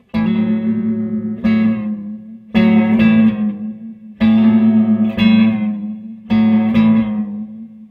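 Guitar notes played through a Jack Deville Electronics Dark Echo pedal with the repeats turned up, each plucked chord trailing into repeating, reverberant echoes; four loud bursts with sustained, wavering decays in between.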